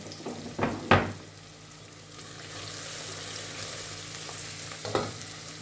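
Red pepper flakes land in a pan of hot fat while frying for a lentil soup, giving a soft steady sizzle with a few louder clatters of stirring near the start and end.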